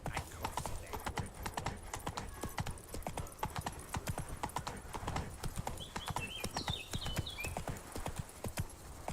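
Hooves of Roach, a horse in The Witcher 3, galloping in a quick, even clip-clop rhythm close by for the whole stretch, with a brief whinny partway through and faint game ambience behind.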